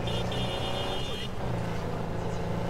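An off-road vehicle in Cyberpunk 2077 is driven along, a dense, loud engine drone running steadily throughout with a high whine that drops away partway through.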